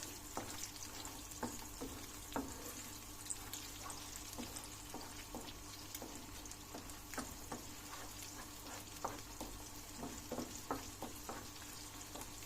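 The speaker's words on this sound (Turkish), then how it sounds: "Bunlar pişene kadar karıştıracağız." Food sizzles steadily in a pan while a utensil stirs and scrapes it, giving a continuous low frying hiss broken by faint irregular clicks and taps.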